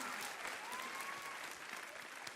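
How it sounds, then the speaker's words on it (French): A TV studio audience on a French talent show breaks into sustained applause, a dense steady wash of clapping that fills the whole stretch at an even level with no talk over it. "On peut encore les applaudir"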